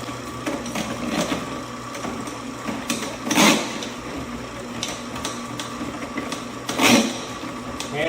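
A Ridgid K-400 AF auto-feed drain cleaning machine runs with a steady mechanical whir while clearing a drain line, with two louder surges of grinding noise partway through.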